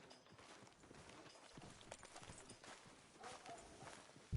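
A horse's hooves clip-clop at a walk on a street, a quiet irregular patter of steps under faint background ambience, with a louder thump at the very end.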